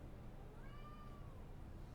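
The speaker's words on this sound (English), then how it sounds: "As the cat continues to yell at me." A cat meows once, a single drawn-out cry rising then falling, heard faint and somewhat distant over a steady low room noise with no talking.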